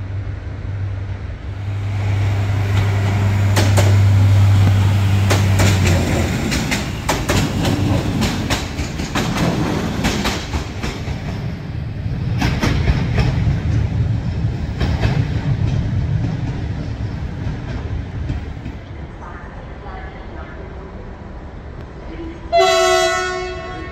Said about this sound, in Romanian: Pleacă trenul către Brașov.